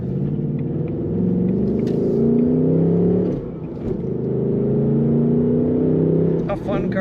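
A 2024 Ford Mustang GT coupe with a manual gearbox accelerates hard, its engine and exhaust rising in pitch through a gear, dipping briefly at a shift, then climbing again, loud and close from inside.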